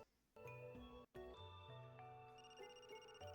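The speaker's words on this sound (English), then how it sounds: "That's my phone." A mobile phone ringtone plays as a melodic electronic tune of sustained tones, loud and close, cut by one brief gap before the melody resumes and steps through shifting notes with no talking over it.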